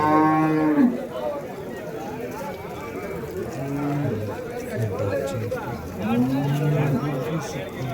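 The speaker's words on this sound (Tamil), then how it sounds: "ஸோ ரெண்டுமே பார்த்தீங்கன்னா ஜெர்சி மாடு." Jersey cows at the Vaniyambadi cattle market moo several times in long, loud, drawn-out calls, with a busy crowd chattering all around and someone talking close by.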